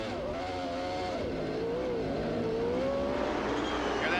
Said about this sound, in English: Different sound on that Honda engine.